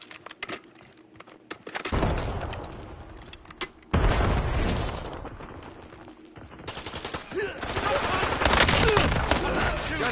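Heavy gunfire in the shooter game Warzone, with dense automatic bursts and booming volleys that are loud and close. The shooting comes in long stretches broken by short pauses.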